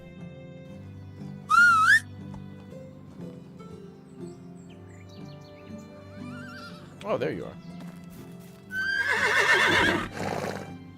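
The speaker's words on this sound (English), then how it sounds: "Let's see, whistle for horse." Medieval Dynasty game audio: a short rising whistle calls a horse, which answers with a loud, wavering neigh near the end, with hooves and a game soundscape underneath, and someone speaking in between.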